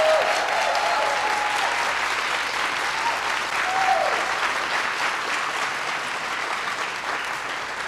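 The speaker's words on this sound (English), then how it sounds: "I want you to all join me and give a round of applause" Steady audience applause at a presidential event, dense and continuous for the whole stretch at a fairly loud, even level, with faint voices in the crowd underneath.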